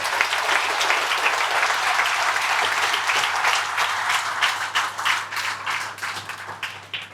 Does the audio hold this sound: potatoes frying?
no